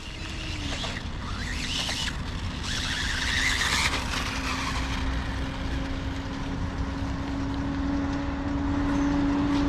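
A Blue Beetle car slides through a corner, engine droning steadily at part throttle with tyre scrub and a skidding hiss, moderately loud and continuous.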